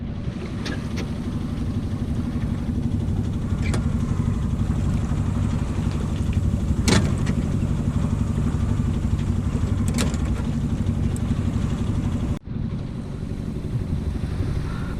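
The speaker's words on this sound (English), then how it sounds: "I've still got the motor on." A sailboat's auxiliary motor chugs steadily at sea under way, a constant low drone with a few faint clicks and knocks on top, no voices.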